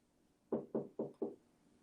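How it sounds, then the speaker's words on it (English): Four firm knocks on a studio door, evenly spaced in quick succession, close and clear against a quiet room. "You ain't got to knock on the studio door, man."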